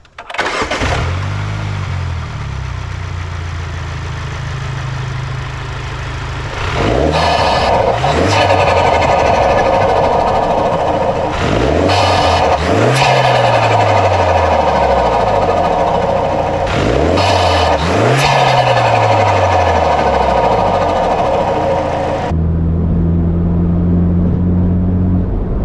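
A Mini Cooper fitted with a performance intake idles low and steady, then roars through three sharp revs that spike and fall back, ending on a settled idle, loud and close with no one talking.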